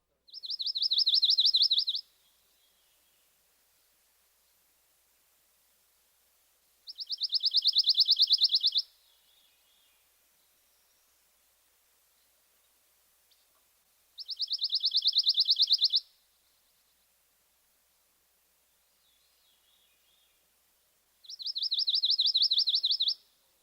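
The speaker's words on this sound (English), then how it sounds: "Our final species is the pine warbler. He also has a musical trill." A pine warbler sings a musical trill four times, each song a short, evenly pulsed run of notes lasting about two seconds and separated by several seconds of quiet, heard clearly and alone.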